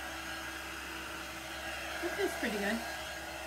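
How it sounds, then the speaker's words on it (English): A Recollections heat tool, an embossing heat gun, blows with a steady close whir like a hair dryer while a person speaks briefly over it. "This is actually a heat tool by Recollections."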